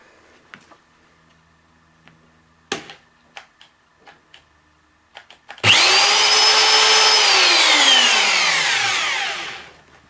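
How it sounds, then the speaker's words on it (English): An electric drill spins up loudly with a high whine, runs steadily for a few seconds, then winds down, after some faint ticks and clicks. "let's run the drill."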